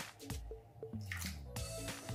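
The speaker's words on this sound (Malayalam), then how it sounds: "വെള്ളം ചേർത്ത് കൊടുക്കാം." Two tablespoons of water go into three tablespoons of sugar in a pan for sweet caramel popcorn, giving a short run of soft, close drips and small splashes.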